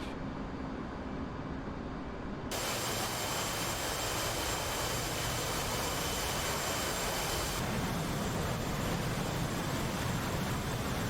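Jet aircraft in DCS World, Legacy Blue Solos display flying, a sustained roaring engine rush that holds steady throughout, brightening with a shift in tone partway through, with no talk.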